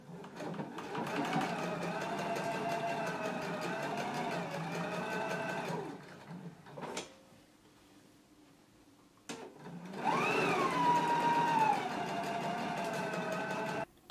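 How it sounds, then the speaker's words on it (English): A sewing machine stitches a 3/8 inch seam allowance in a steady mechanical whir for several seconds, stops briefly with a couple of clicks, then runs again at a higher, slightly changing pitch. "I'm going to go ahead and stitch in the 3/8 of an inch seam allowance, being sure to leave this top edge open."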